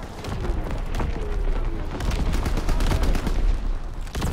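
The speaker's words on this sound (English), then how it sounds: "Incoming enemy artillery! Get to cover!" Incoming enemy artillery in a video game pounds in dense, continuous bursts of booms and rapid gunfire, loud and close, with a rough overlapping rhythm throughout.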